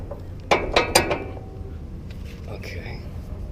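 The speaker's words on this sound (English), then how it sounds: "Get your wrenches again, stick it in that lock nut, and the other wrench will go in that little notch" Metal wrenches clink and ratchet against a lock nut during vehicle work, a few sharp mechanical clicks clustered early, then quieter handling noise over a low background hum.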